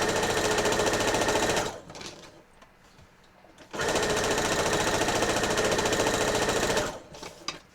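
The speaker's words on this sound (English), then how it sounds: "this should be the last pass to sew before combining rows" A sewing machine runs in two fast, steady bursts of rapid needle chatter while quilt rows are stitched together, separated by a short quiet pause with faint handling noises, then ending in a few brief stitches.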